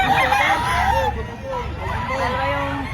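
A rooster crows with a long, wavering call amid background chatter and clucking at a chicken market in Padre Garcia, Batangas, fairly close and loud.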